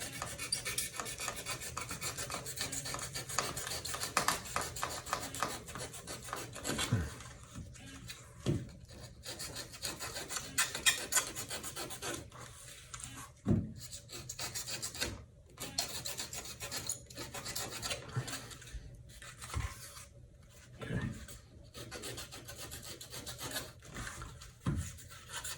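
Sandpaper rubs steadily against a foam core shoe sole, a continuous raspy scratching with repeated back-and-forth strokes, close and fairly quiet, with no talking.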